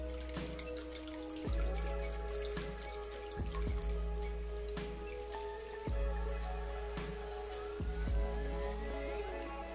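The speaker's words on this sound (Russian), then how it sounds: "Нужно налить воду так, чтобы общий уровень воды и утонувший в кавычках банки был чуть выше ее" Tap water poured into a submerged jar until the level sits just above its neck, giving a steady splashing, gurgling trickle with repeated bubbling glugs, close and fairly quiet.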